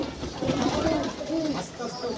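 Pigeons eating bread and softly cooing nearby, with low, rolling coos repeating over a murmur of background voices and outdoor noise.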